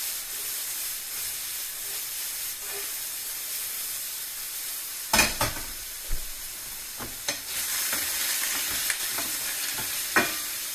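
A sauce reducing in a pan sizzles and hisses softly and steadily, with occasional louder clinks and scrapes of stirring; no voices.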